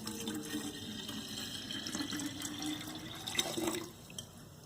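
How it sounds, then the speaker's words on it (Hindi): Tap water runs into a 1-litre can, a steady close splashing stream with a rising fill tone that cuts off near the end, leaving a quieter trickle; no voices. "पहले हम इस कैन में इस पानी को भर देते हैं।"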